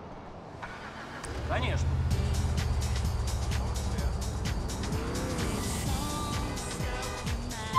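A car engine starts and revs in Grand Theft Auto IV, then settles into a steady driving drone with shifting pitch, while a voice speaks briefly over the motor.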